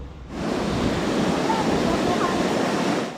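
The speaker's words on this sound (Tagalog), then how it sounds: "malakas ang alon dito" Strong sea waves pound the shore at a storm-damaged resort after a typhoon, a loud, continuous roaring wash with wind noise, steady for about three seconds.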